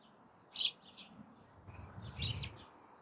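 A little coal tit and other small garden birds in an autumn wildlife garden give two short bursts of high chirps, the second fuller, against a quiet background.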